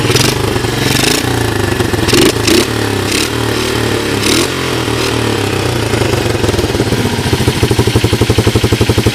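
A Honda ATC 125 three-wheeler with a rebuilt carburetor and an added shifter runs loud and close for the whole stretch, its engine idling and revving in bursts, with a steady rapid putter coming through toward the end.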